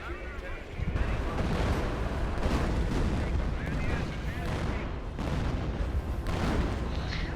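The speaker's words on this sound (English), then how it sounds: "there's some artillery falling onto us, which is kinda irritating" Artillery shells landing in Company of Heroes on a Wehrmacht defensive position, heavy rumbling booms rolling one after another, loud and dense throughout with a few sharper impacts.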